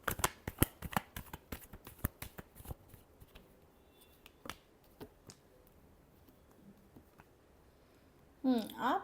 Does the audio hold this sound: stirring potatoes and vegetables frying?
no